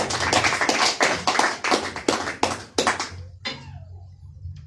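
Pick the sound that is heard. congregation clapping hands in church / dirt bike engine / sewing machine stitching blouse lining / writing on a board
congregation clapping hands in church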